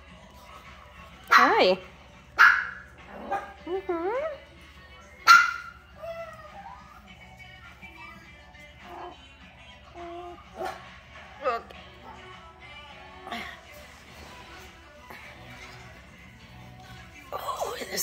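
Four-week-old puppies yip and whimper in a string of short, close, high cries with sharp bursts between quieter whines, while a person talks briefly over them.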